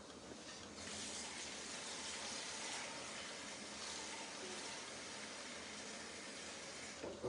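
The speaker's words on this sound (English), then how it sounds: "I'm going to add a little bit more water to my steamer." Water pours steadily into a kitchen steamer used for steaming broccoli, a continuous hissing gush that starts after a brief pause and runs evenly at moderate volume to the end.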